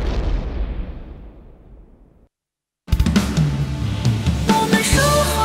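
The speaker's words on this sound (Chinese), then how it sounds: "这爆炸的声音是从我的阵地方向传过来的。" Loud explosions from wartime bombing near a city's defensive positions: a deep rumbling blast fades out, a brief silence follows, then a dense, heavy burst of booming detonation rolls on, with no voices.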